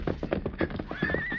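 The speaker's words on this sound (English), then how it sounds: "he pulled his horse to a halt and dismounted" A horse in a western ranch corral setting gives a high whinny while its hooves clip-clop in a quick, steady rhythm close by, the neigh rising over the hoofbeats.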